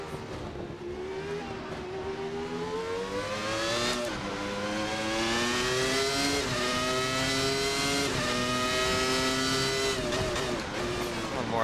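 A Williams FW19 Formula One car in a racing video game screams at high revs, its peaky engine note rising and falling steadily through gear changes with a constant loud roar and no pause.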